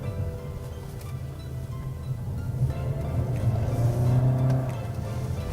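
A Toyota Yaris Cross Hybrid engine hums steadily, rising in pitch and loudness as the vehicle accelerates through a maneuver, heard from inside the cabin.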